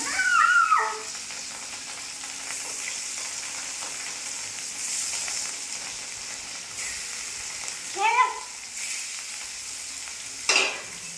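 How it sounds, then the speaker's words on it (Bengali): Rohu fish rubbed with salt and turmeric fries in a wok, giving a steady broadband sizzle throughout with a few brief clattering stirs, and no talking. "মাছটা ভেজে নেব।"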